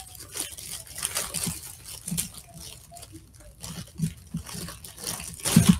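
Plastic packaging crinkles and rustles as someone tries to tear it open by hand, giving soft, irregular scrapes and crunches at close range in a quiet room.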